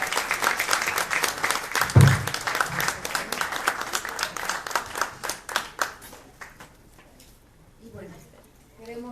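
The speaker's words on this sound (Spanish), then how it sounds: "Al doctor Lauro Zavala, un aplauso muy fuerte por toda esa pasión y entrega." Audience at a lecture event bursts into loud, dense applause with scattered cheers, the clapping thinning out and fading toward the end before a voice begins speaking.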